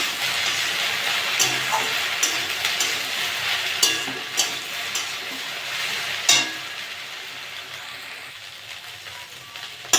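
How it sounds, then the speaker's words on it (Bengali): Okra fries in a pan with a continuous close sizzle, broken by occasional clicks and scrapes as it is stirred. "লবণ দিয়ে দেবো ভালো করে ভেজে নেবো"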